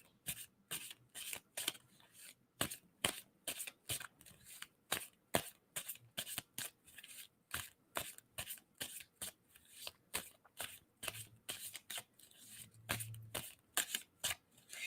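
Tarot cards being shuffled by hand, a steady run of crisp riffling snaps repeating close up for the whole stretch with no talk.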